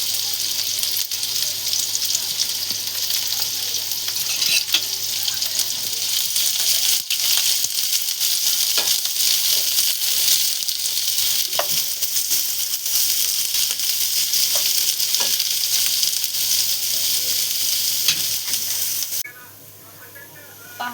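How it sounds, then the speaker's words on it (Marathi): Chopped onion sizzles steadily in a ladle of hot oil in a pan while browning, a constant bright hiss with occasional clicks and scrapes of stirring, cutting off abruptly near the end. "यामध्ये टाकणार आहोत आपण कांदा, लाल होईपर्यंत भाजून घ्यायचा।"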